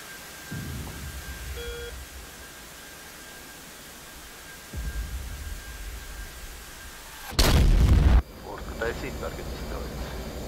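A laser-guided bomb from an F/A-18 strikes in DCS World, a loud, deep blast that booms for about a second amid steady cockpit hum, followed by lingering rumble.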